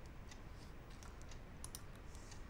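Login credentials are typed on a computer keyboard as a few faint, light key taps over a steady hum of background noise, with no talking.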